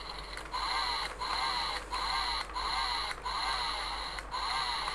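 A complete selection modification (CSM) Accel Driver toy car gives off a buzzy, whirring engine sound in repeated bursts of about a second each, with short dips between, close and fairly quiet.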